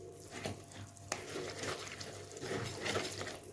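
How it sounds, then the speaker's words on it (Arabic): Water poured and mixed into a runny pastilla dough batter with a hand whisk, soft continuous splashing and stirring, close and quiet, no voices. "غادي نزيد الماء"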